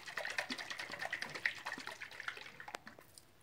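A dry, mature coconut is shaken by hand, its water sloshing inside in quick rhythmic splashes, close up and fairly loud, alone without talk.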